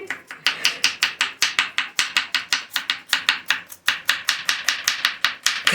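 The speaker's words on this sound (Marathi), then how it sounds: "कटिंग करायला कटिंग स्किल दाखवत आहे" Fast, evenly spaced knife strokes on a cutting board as vegetables are chopped, around five sharp chops per second for several seconds, close and clear with a brief pause midway and no talking.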